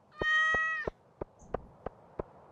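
Cat in the video game Stardew Valley giving one drawn-out meow, followed by a series of six short, evenly spaced clicks or taps, all close and clear over a quiet background.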